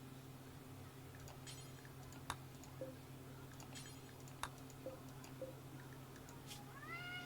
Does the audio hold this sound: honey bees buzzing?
no